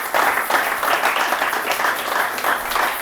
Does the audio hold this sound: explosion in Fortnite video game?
no